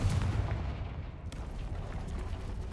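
A Confringo fire spell explodes in Hogwarts Legacy with a heavy booming blast that rumbles and decays, followed by scattered crackles and low rumbling, with no talking.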